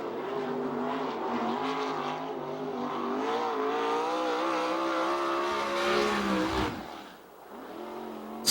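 A USAC/CRA sprint car, number 18, races around the Perris, California oval, its loud engine howling and rising in pitch along the straight, then dropping away as it goes into the turn.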